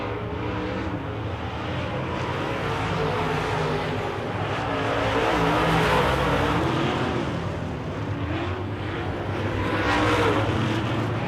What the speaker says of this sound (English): You listen to the sound of the 10 car when it goes by and then try and listen to the 29.